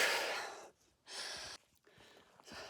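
Heavy, labored breathing from a hiker climbing uphill on the Appalachian Trail near Mt. Success, with three loud, breathy exhalations separated by short quiet pauses, close to the microphone.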